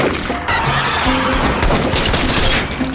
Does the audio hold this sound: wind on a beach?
no